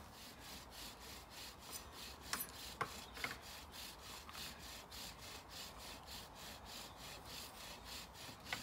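A wooden fire-by-friction drill is spun by two people working it together, giving a steady rhythmic rasping and rubbing of wood on wood that pulses evenly throughout with a few sharper creaks.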